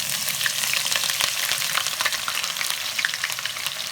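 Ginger and garlic fry in half a cup of hot oil in a kadai, giving a steady, dense sizzle with crackling pops throughout, close and fairly loud, with no talking.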